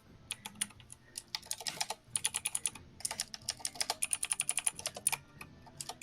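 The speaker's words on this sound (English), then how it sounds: "Man, you're typing like mad." Fast typing on a computer keyboard, dense bursts of rapid clicks with short pauses between runs, close and clear with no talking.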